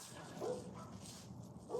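Several dogs barking and whimpering faintly from behind a door or at a distance in a residential neighborhood, short yips and soft whines under quiet background noise.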